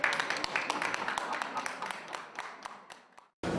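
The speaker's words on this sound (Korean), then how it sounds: "이럴 때는 박수." A small crowd claps at the opening of an art exhibition at an arts centre, scattered, fairly quiet hand claps that thin out and stop before a brief final sound.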